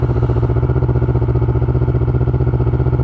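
A big bike motorcycle engine idles on a cold start, a steady loud rhythmic thrum with even low pulses that holds throughout, close up and with no talking.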